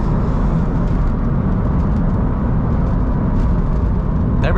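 Ford Mustang 5.0-liter V8 driving in fourth gear, a loud, steady, rumbling engine drone close to the microphone throughout, with no talking.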